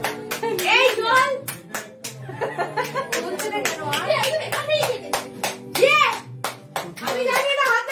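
Repeated hand claps ring out in uneven bursts at a family birthday cake cutting, mixed with children talking and bits of laughter close by.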